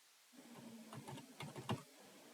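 Keys clatter on a computer keyboard as a short Kubernetes command is typed, a quick burst of soft clicks that is quiet and close, with no voices.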